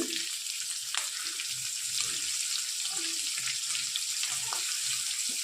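Ingredients sizzling in hot oil in a pan over a raised gas flame, a steady loud crackle and hiss with occasional stirring clinks and faint spatters throughout.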